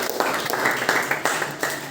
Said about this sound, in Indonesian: Oke, tepuk tangan buat Kesha.